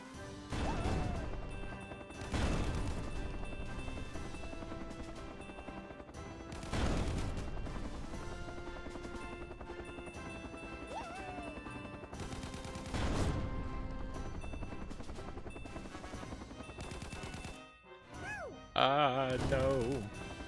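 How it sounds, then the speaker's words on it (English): A helicopter in a video game fires bursts of gunfire and drops bombs, several loud crashing blasts spread across the stretch with shooting between them, and talk plays underneath. "Besides shooting bullets, the helicopter can also drop bombs."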